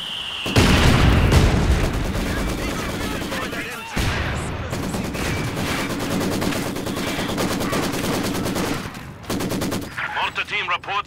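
A heavy machine gun team fires long, loud, continuous bursts in the WWII strategy game Company of Heroes 2, with booming explosions mixed in and brief pauses between volleys.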